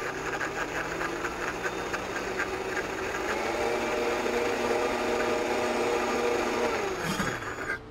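A loud kitchen blender purees chimichurri with a steady, harsh motor roar for about seven seconds, then cuts off abruptly near the end.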